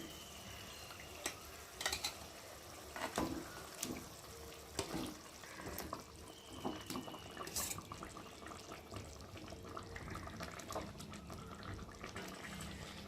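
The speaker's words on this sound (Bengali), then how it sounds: "ঝোলটা ফুটে গেছে দেখো কত সুন্দর ফুটছে ঝোলটা" A pot of fish curry broth boils quietly, making a soft continuous bubbling with scattered pops and light clicks of stirring, all faint and without voices.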